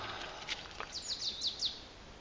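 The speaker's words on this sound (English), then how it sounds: "Can you hear the bird?" Bright, high bird chirps in a quick series of short trills, fairly close, over a soft steady background hiss.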